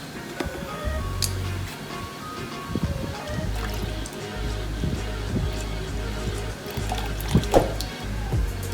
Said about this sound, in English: I'm going to add the other half cup of the milk